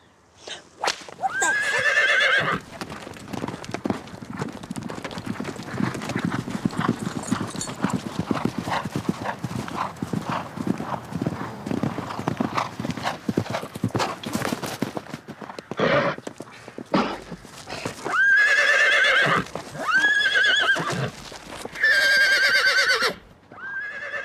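A horse's hooves clip-clop in a steady, close rhythm for much of the stretch, with a whip crack, and loud neighs and whinnies break out near the start and again toward the end.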